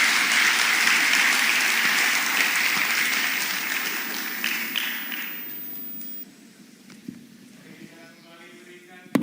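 Loud audience applause for Ganjar Pranowo after his talk at Universitas Indonesia fills the room, holding steady for about six seconds before dropping abruptly to faint scattered claps and room noise.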